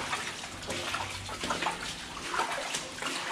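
Water in a tunnel rushes and sloshes close by, a steady, fairly quiet wash with small splashing surges and no talking.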